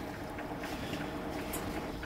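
A sailboat under its mainsail alone runs in a fair breeze, with soft steady wind and water rush and a few faint creaks and taps, all quiet and continuous.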